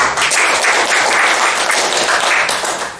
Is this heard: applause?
yes